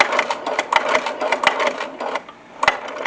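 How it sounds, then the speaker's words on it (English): Sewing machine back stitching a double magazine pouch, a quick run of rapid mechanical stitch clatter with a short pause near the end before a final burst, close and clear. "lower my presser foot back down, and back stitch"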